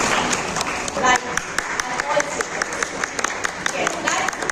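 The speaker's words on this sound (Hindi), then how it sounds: "एक बार जोरदार तालियां हो जाए everyone for Santosh ma'am." Applause rings out from an audience at an award ceremony, with steady clapping and sharp individual claps over a busy room while people talk.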